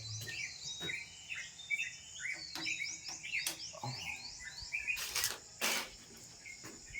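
Birds chirp and tweet in quick, repeated calls on a cool, damp afternoon after rain, with insects and frogs buzzing steadily beneath and a couple of louder bursts near the end.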